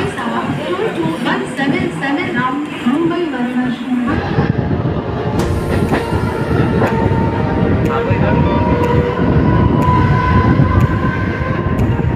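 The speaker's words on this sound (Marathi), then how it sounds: "तर आपली ट्रेन आलेली आहे कर्जत पावणे 1ची." A local train rumbles into Karjat station close by, wheels clattering and brakes squealing, with a crowd chattering on the platform throughout.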